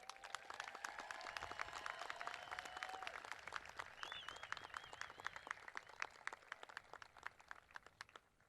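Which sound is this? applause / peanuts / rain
applause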